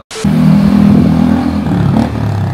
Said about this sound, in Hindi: ये बंदे की गाड़ी गई है, अभी बहुत ज़ोर से साइलेंसर का आवाज़ आया यहाँ पे